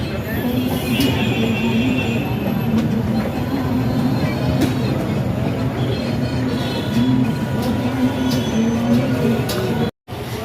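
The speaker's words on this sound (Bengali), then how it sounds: "ট্রেন এসে গেছে," A train arriving at a Kolkata station rumbles steadily and loudly close by, wheels clattering along the rails with a continuous low roar and occasional metallic clicks.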